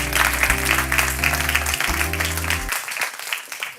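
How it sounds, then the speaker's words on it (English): An audience at an agribusiness livestream event claps in a short burst of applause that tapers off, with a low tonal hum beneath it for most of the burst. "I think that deserves another round of applause"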